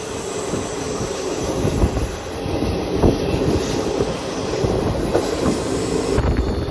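A DEMU passenger train runs through Krishnamma Kona station in the Nallamala hills without stopping, wheels clattering and squealing loudly and continuously, close and steady with rhythmic rail joints.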